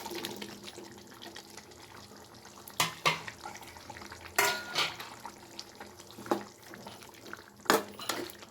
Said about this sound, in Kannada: ಈಗ ಸ್ವಲ್ಪ ನಾನು ಆಲೂ ಆ್ಯಡ್ ಮಾಡ್ತಾಯಿದ್ದೀನಿ.